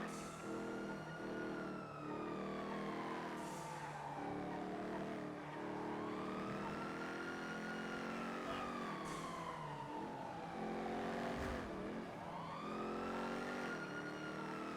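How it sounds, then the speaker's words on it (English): Car engine in the NoPixel GTA game revving hard at speed, its tone climbing and falling in long sweeping arcs with rich harmonics, steady and fairly faint throughout. "That engine is singing."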